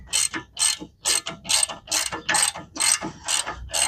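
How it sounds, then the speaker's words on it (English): A 3/8 ratchet driver loosening bolts on a 2008 Toyota Highlander during rear strut work, with rapid metallic clicking in eight or so regular back-and-forth strokes, close and crisp, no talking. "I am going to use my little 3/8 driver, no extension"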